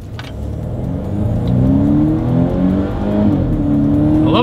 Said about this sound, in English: let's see how quickly we can get our new 2024 Volvo S60 here up to speed